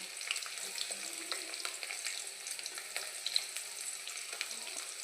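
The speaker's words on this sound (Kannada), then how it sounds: "ಈರುಳ್ಳಿ ಬೇಗ ಫ್ರೈ ಆಗಬೇಕಂತಂದರೆ ಸ್ವಲ್ಪ ಉಪ್ಪು ಹಾಕ್ಕೊಂಡು ಫ್ರೈ ಮಾಡ್ಕೋಬೇಕು" Onions with a pinch of salt fry in a pan with a steady, soft sizzle and crackle, faint and even throughout, with occasional stirring and no voices.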